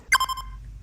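Mobile phone ringing in a garage during a car repair: a short, bright electronic ringtone chime that quickly fades, heard over a low background hum.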